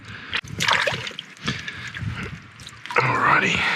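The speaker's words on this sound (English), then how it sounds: "So washing this crayfish in salt water is the way to go." A freshly caught tropical ornate crayfish gets washed in salt water, with irregular close splashes and sloshing bursts, plus a louder surge of water near the end.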